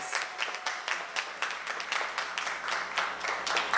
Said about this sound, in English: Please give them a round of applause with their teachers.